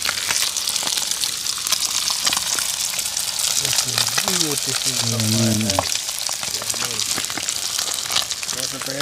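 Fish frying in hot oil for escovitch fish sizzles with a dense, steady crackle throughout, loud and close, while someone talks briefly over it midway.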